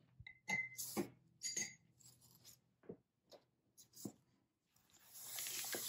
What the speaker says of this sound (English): I'm cleaning my brush.